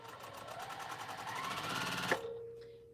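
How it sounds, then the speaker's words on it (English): A sewing machine stitching batik fabric runs at a steady, rapid rhythmic whir, close and continuous, then stops abruptly near the end, leaving a faint hum. "So let's sew these on here."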